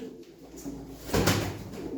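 Pigeons cooing softly at close range, a brief low coo with faint rustling in a quiet setting, no voices.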